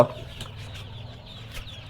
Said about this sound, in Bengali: এটা কিন্তু সোনালি হাইব্রিড মুরগি